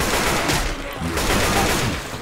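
Rapid gunfire from zombie shooting in the video game Left 4 Dead 2, a dense fusillade of shots filling the moment with game noise.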